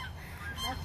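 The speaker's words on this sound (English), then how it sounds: "Geese." Geese honk in a park, a short burst of nasal calls standing out over steady outdoor background noise.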